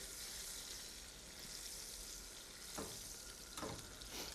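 Potatoes sizzling in very hot oil in a pan over a high flame, a steady close hiss and crackle with a couple of brief louder spits.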